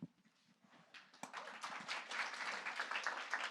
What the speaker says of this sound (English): I know you're applauding the panel